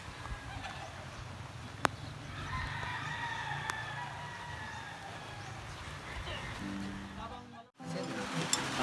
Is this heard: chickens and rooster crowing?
yes